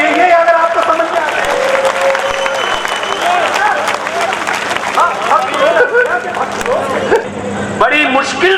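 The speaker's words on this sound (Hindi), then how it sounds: "ताली बजाओ यार" A live audience at a Hindi kavi sammelan poetry gathering bursts into sustained clapping and applause, dense and loud, with crowd voices and murmuring mixed through it and fading toward the end.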